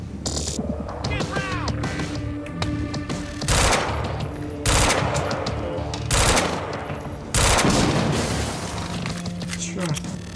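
Heavy gunfire in a Quantum Break shootout: bursts of automatic fire and single shots crack again and again, close and loud, with booms and shattering debris between volleys and a low hum underneath.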